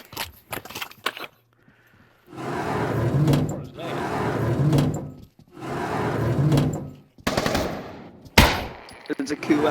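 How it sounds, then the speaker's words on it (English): Gunfire in a prison guard video game: sharp shots at the start, then three long bursts of rattling automatic fire separated by short pauses, with more sharp bangs at the end, loud and close. "You shot them."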